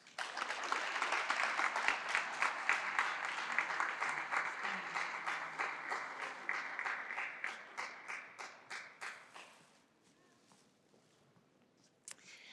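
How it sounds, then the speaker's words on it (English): Applause from an audience at a grant award ceremony, many hands clapping steadily for about nine seconds before thinning to scattered claps and fading, with one last sharp clap near the end. "Would you please join me in giving Julia and Mia a round of applause?"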